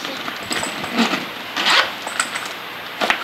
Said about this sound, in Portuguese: E o zíper é assim, ó.